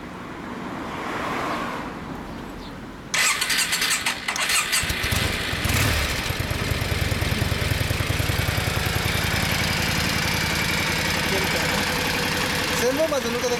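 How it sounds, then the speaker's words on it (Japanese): A 2007 Yamaha DragStar 400 Classic V-twin cruiser cranks, catches and settles into a steady, low, lumpy idle. Wind and outdoor noise are heard before it starts, and the engine stays close and continuous after. "ごめん、あのエンジン音聞かせて。"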